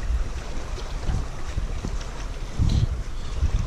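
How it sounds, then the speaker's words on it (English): Gusty wind buffets a microphone outdoors at an arrowhead hunting site, a steady low rumble with stronger blasts swelling around the middle and end, no voices. "Sorry about the wind, yo."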